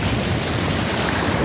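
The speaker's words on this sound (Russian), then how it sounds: "Я сейчас вышел на океан. Это открытый океан Атлантический." Atlantic Ocean surf breaking on an open shore in December, with wind buffeting the microphone, a continuous loud wash of water and gusts, no voices.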